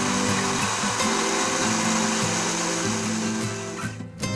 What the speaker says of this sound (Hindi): और इन सब चीज़ों को हम ब्लेंडर में डालकर हस्ब ज़रूरत पानी के साथ पीस लेंगे